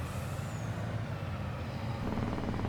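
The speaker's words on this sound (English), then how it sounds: "I need to bring my second truck" Truck engine in Farming Simulator 22, a steady low diesel drone running continuously and fairly loud, with the pitch rising slightly near the end and no talk over it.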